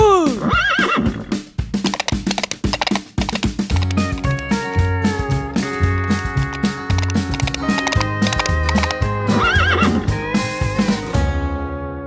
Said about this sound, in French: Et dans sa ferme, il y a un cheval.